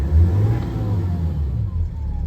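Land Rover Defender with a BMW engine conversion running, a low, smooth engine rumble heard from inside the cabin, steady and fairly quiet with a slight rise in revs at the start.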